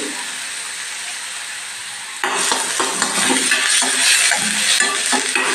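Chopped onion drops into a hot pan on a low flame and bursts into loud, steady frying, a close hissing sizzle broken by scraping stirs, after a quieter low hiss at the start.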